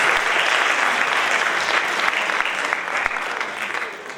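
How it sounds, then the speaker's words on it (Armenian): Warm audience applause at an international choreography festival concert, dense steady clapping from a large crowd filling the whole stretch, tapering slightly at the end. "Եկեք ջերմ ծափահարություններով մեր վրացի ընկերներին ողջունենք"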